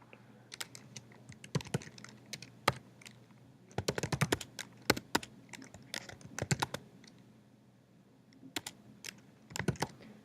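Bursts of keystrokes on a computer keyboard, typing a word into a lab program, with irregular clusters of sharp clicks separated by short pauses, close and fairly quiet with no voices.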